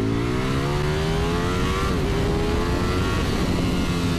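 A 2020 Ducati Panigale V4S motorcycle pulls hard at full throttle in first gear, its engine note rising steadily in pitch, dipping briefly at a shift and climbing again, loud and close with no talking.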